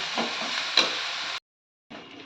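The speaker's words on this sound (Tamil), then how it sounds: "அடுப்பை சிம்மில் வச்சு நல்லா வதக்கிக்கலாம்" Lachakottai keerai greens sizzle steadily in a hot pan over low heat with a couple of stirring scrapes, then the sound drops out briefly before the quiet sizzling resumes.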